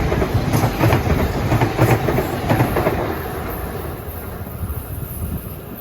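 Metro North train 1264 to Harrison rolls past, a loud rushing rumble with clickety-clack of wheels over rail joints and wind buffeting, gradually fading as it moves away.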